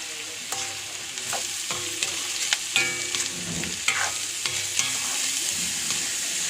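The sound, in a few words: frying and stirring bitter gourd with turmeric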